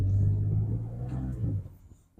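A 2018 Ford Raptor with a Corsa resonator delete accelerating hard, a deep loud exhaust rumble that holds strong and then fades as the truck pulls away.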